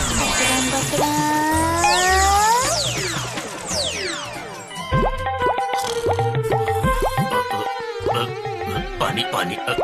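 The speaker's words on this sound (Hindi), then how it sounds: "ये पानी कहाँ से गिर रहा है?" Cartoon water drips falling through a hole in a roof make a string of plinking, plopping drops in an irregular rhythm, mixed with whooshing sliding effects and music. A voice is heard over the sounds.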